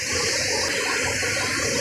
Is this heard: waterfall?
yes